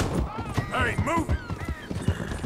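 Horse hooves clip-clop unevenly on the ground in the Red Dead Redemption 2 video game, close and moderately loud, while a person talks over the steps.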